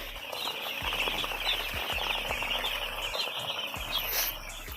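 Broiler chickens on a freshly laid damp sand floor in a poultry shed, soft scattered clucks and chirps over a constant mechanical hum with faint periodic thumps.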